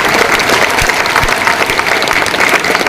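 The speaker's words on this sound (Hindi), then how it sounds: "जोरदार तालियां" Loud, dense applause from a large crowd, steady throughout with no pauses.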